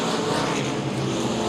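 Modified race cars roaring down the backstretch at Baer Field Speedway during a championship feature race, a loud, steady wash of engine noise from the pack with no clear break.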